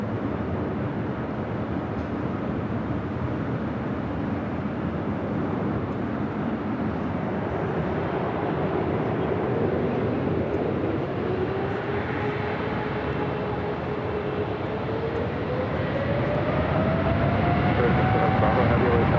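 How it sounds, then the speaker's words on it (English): A Singapore Airlines heavy jet takes off from runway 24 left at LAX, making a sustained broad engine roar and a rising whine that build over about twenty seconds, steady and loud from a distance. "Singapore 11 heavy on up Delray, runway 24 left, set for takeoff."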